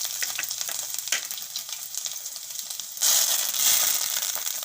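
Red chillies and ginger sizzle in hot oil during Gujarati rava bateta muthiya preparation, a steady close crackling hiss that swells louder partway through, with no talk.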